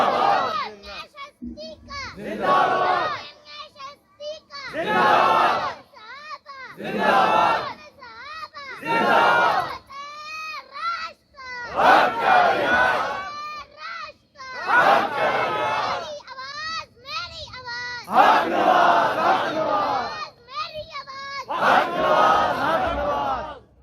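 A large religious conference crowd chants slogans in loud, repeated bursts, many voices shouting together in rhythmic call-and-response waves across the whole stretch.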